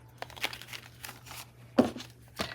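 Tissue paper rustles and crinkles in a few quiet, brief bursts as it is handled and cut with scissors at close range, with near-silence between the sounds.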